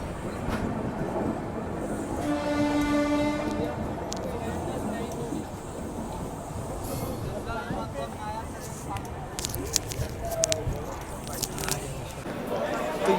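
An empty train rake rolls through Patna Junction with a steady, close rumble and clatter of wheels, a sustained tonal horn-like note early on, and people talking over the noise.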